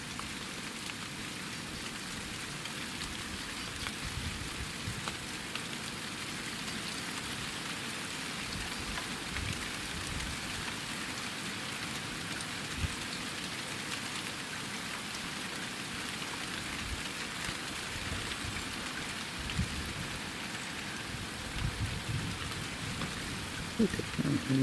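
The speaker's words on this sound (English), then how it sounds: "This has got to be the most hail I've seen in a long time." Heavy hailstones fall outdoors in Cambridge, UK, producing a dense, steady rattling patter that continues evenly for over twenty seconds, with no talking.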